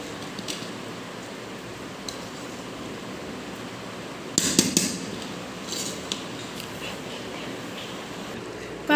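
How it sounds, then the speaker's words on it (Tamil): A few brief metallic clanks and scrapes from a pressure cooker lid being opened and vegetable rice being stirred, clustered midway through over a steady low kitchen hiss. "இப்போ குக்கர் மூடியை ஓப்பன் பண்ணுறேன் இப்போ பாருங்கள் இதை கிண்டலாம்"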